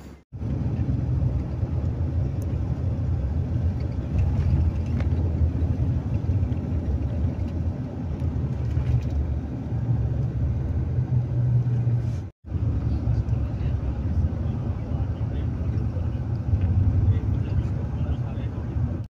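A Silver Star passenger bus engine gives a continuous, heavy low rumble heard from inside, steady for the whole stretch apart from one brief cut, while people talk over it.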